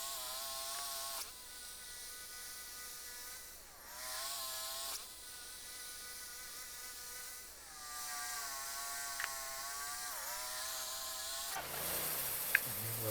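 A Wood-Mizer LT40 hydraulic sawmill cuts boards with a sustained mechanical whine that rises and falls in pitch as the blade works, followed near the end by a rougher burst of clatter.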